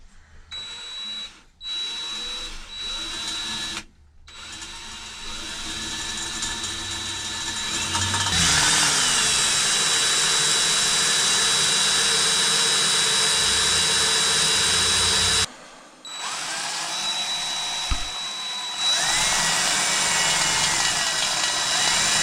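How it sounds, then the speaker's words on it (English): A power drill whines steadily at high speed drilling pilot holes, stopping briefly a few times between holes before spinning up again, loud and close. "just drill pilot holes, and then go through with my step bit"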